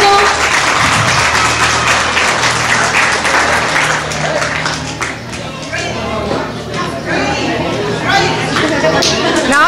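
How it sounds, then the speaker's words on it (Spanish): Loud applause from an audience at a school coronation of kings and princesses, many hands clapping steadily throughout, mixed with crowd chatter and voices. "Fuerte el aplauso."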